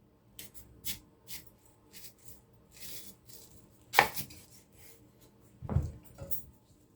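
A knife cuts through food on a board in slow, separate strokes, some sharp and crisp, a few heavier thuds, close and quiet between cuts.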